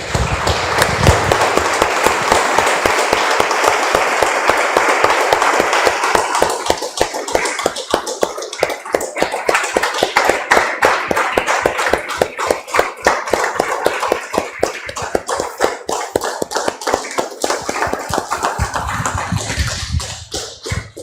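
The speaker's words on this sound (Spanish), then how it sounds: "Damos un aplauso, hermanos, al Señor." A church congregation claps in unison, a steady, rhythmic beat of sharp claps that keeps up for about twenty seconds, with a looser burst of clapping at the start and a trailing-off at the end.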